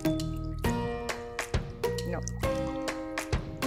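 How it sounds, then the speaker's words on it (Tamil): A cup of water poured into tamarind kuzhambu in a pot while cooking, with intermittent splashing and dripping over a low background hum, broken by short sharp clatters. "குழம்பு கன்சிஸ்டன்சி வேணும் இல்லையா? ஆமாம், அதனால் இதில் வந்து ஒரு கப்பு தண்ணி விடுங்க."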